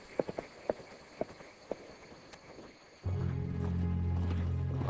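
Horse hooves clip-clopping in a sparse, uneven series of sharp knocks, fairly close and alone, before a steady low drone abruptly takes over partway through.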